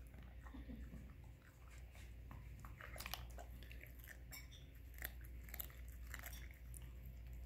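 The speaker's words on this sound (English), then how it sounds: "A dog eating broccoli." A dog crunches raw broccoli up close, with irregular crisp bites and chewing clusters over a quiet room background, brief soft remarks from a person nearby.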